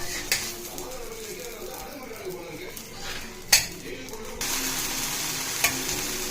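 Bottle gourd dosa being flipped on a pan, a soft sizzle with light spatula scrapes, one sharp metallic clink midway and a brighter, louder hiss after the turn, up close.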